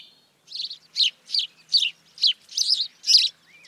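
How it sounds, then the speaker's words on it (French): A house sparrow in Paris chirps in a quick run of about eight bright, sharp notes, close and clear against near silence. "Aujourd'hui, le moineau domestique,"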